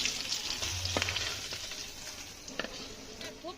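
Small hilsa fish frying in hot oil, a steady soft sizzle with occasional louder pops and crackles, close by and alone without any voices.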